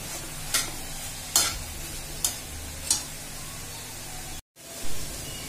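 Grated carrot halwa sautéed in ghee, a soft steady sizzle broken by four distinct scraping strokes of a spoon against the pan, then a brief dropout and one more stroke, with no talking.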